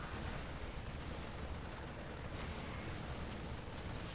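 Tank fire and explosions in a StarCraft 2 battle come as a dense, steady wash of muffled booms and crackling blasts, fairly quiet and continuous, with no talking.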